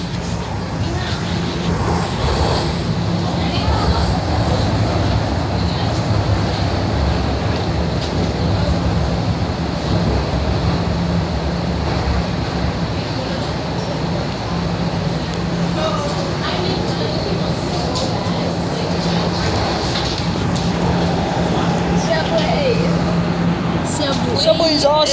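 A Toronto subway train riding between stations, a steady loud rumble and hum of wheels and motors filling the car throughout, with an onboard station announcement over the noise.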